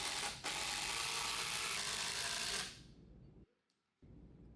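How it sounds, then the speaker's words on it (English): A screw being driven down into a walnut bench top: a loud, rough mechanical whirr-and-ratchet run for nearly three seconds, then dropping away to quiet with a brief low rumble at the end. "And now what do we need to do but screw it down."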